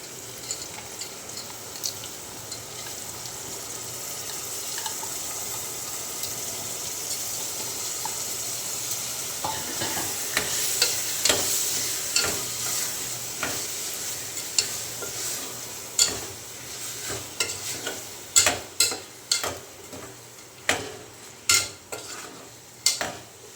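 Steady stirring of dal with water in a pot, soft scraping and sloshing that turns into repeated rhythmic knocks of a spoon toward the end.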